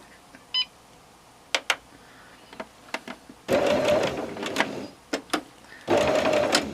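A sewing machine stitching quilt binding starts after scattered clicks and beeps as it is switched on, then runs in two short bursts of close, steady motor whir and needle rattle.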